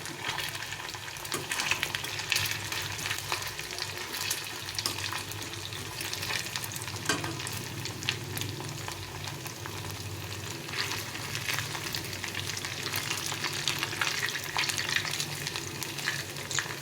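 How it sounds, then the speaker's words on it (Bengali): Banana flower peels deep-frying in plenty of oil make a loud, steady crackling sizzle that holds for the whole stretch, with occasional sharper pops and light utensil movement. "একটু ডুবো তেলে ভাজতে হবে।"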